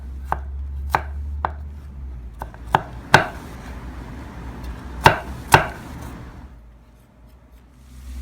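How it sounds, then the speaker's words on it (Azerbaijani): A knife chops garlic finely on a cutting board, with several sharp, separate knocks at irregular intervals over a low background hum, close and distinct, fading to quiet near the end. "Sarımsağı da xırda-xırda doğrayırıq."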